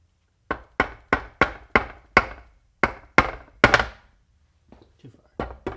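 Nail gun firing nails into freshly glued, clamped wood pieces of an amplifier chassis cradle: about ten sharp thwacks in a quick uneven run, close and loud, then a few fainter knocks after a pause.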